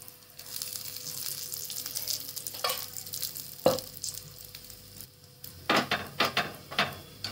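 Food roasts in oil in a pan with a steady sizzle and occasional scraping or stirring knocks close by, alone without talk.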